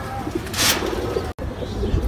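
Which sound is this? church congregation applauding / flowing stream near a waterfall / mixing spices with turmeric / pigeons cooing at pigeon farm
pigeons cooing at pigeon farm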